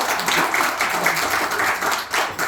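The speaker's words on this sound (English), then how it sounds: "Let's give him a wonderful round of applause." Audience clapping at a farewell tour meal event in Northampton County, North Carolina, a close, moderately loud patter of hands that continues steadily for a couple of seconds, with no talk over it.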